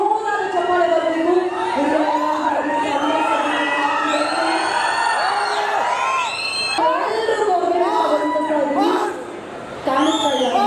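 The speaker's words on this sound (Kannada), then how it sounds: "ಪ್ರೊಡ್ಯೂಸರ್ ನಮ್ಮೆಲ್ಲರ ಅವಿನಾಶ್ ಸರ್ಗೆ ದಯವಿಟ್ಟು ಜೋರಾದ ಚಪ್ಪಾಳೆ ಬರಬೇಕು" Audience at a film trailer launch claps and cheers loudly for the producer, a dense, sustained roar with whoops and shouts, while a voice talks over the crowd throughout.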